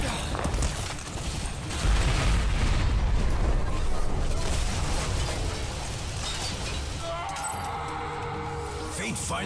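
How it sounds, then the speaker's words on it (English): Gravity core generators detonate in Bulletstorm, a sustained roar of heavy booms and rumbling blasts that rises after a brief dip, then settles into lower rumbling with mechanical clanks and debris toward the end. "I predict an imminent detonation within the gravity core generators."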